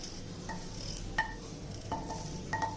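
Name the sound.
cumin and ginger lightly roasting and stirred in pan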